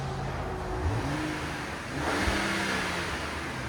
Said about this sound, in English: So 2025 Ram 1500 inline 6.